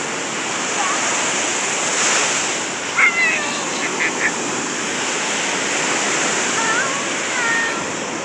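Ocean waves and surf on a Florida beach, a steady broad wash of breaking water with no clear individual wave crests, continuous throughout with a few brief faint knocks near the middle.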